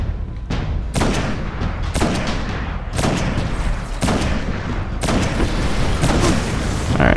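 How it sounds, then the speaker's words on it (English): The Black Hammer sniper rifle fires in Destiny: House of Wolves, about seven heavy booming shots spaced roughly a second apart, loud and close, each with a long rumbling tail. "I have this gun called the Black Hammer"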